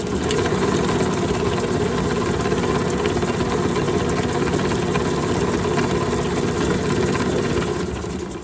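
An Ankarsrum mixer with its heavy duty beater churns cookie dough, giving a steady, loud motor whir that runs continuously alone.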